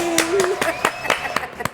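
A short burst of studio audience clapping for a singer on a TV show, with sharp hand claps, a tonal hum running underneath throughout.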